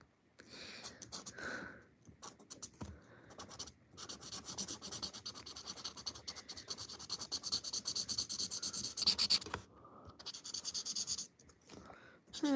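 Steady scratchy rubbing of a marker tip across paper, continuing in bursts with brief pauses, close and fairly quiet.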